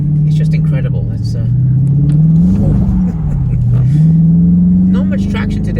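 A Dodge Charger Scat Pack's big engine revs loudly and steadily while drifting on a wet, low-traction surface, its deep pitch dipping and climbing in sweeping swells, with a voice faintly audible over it.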